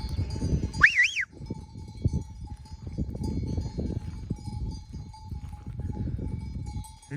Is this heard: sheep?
yes